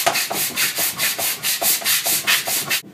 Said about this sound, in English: with 180 I can go out a little further with the sanding